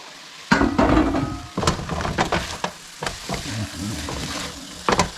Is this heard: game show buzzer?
no